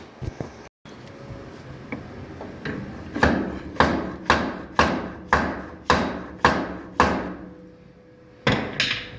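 Hammer blows strike thin welded metal on a trophy truck, about ten sharp, evenly spaced impacts ringing close and loud after a short pause, with a brief silence early on and a final hit at the end.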